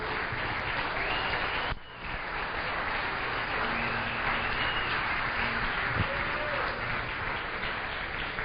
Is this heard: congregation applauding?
yes